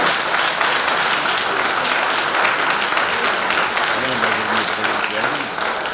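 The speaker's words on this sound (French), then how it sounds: "Alors, on peut l'applaudir, on peut l'applaudir." Applause from an audience greeting a politician at an event in a Cultura store in La Rochelle, a dense, steady wash of many hands that goes on throughout, with a faint voice rising under it near the end.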